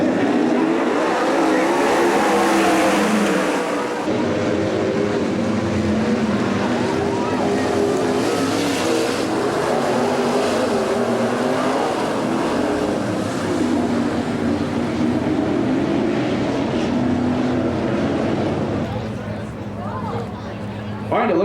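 Race cars at Cottage Grove Speedway rumble and rev in a loud, continuous engine roar, with an announcer's voice over the public-address system on top.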